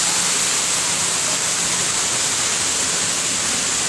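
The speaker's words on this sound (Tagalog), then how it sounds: "ayan, lagas-las ng tubig." At the Manila Zoo entrance, a fountain's rushing water makes a steady, loud, hissing wash that stays constant throughout, with no other sounds standing out.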